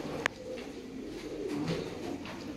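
A pair of red-marked Sialkoti pigeons coos in a loft, soft low throaty calls rising and falling, with a brief sharp tap near the start and no talking.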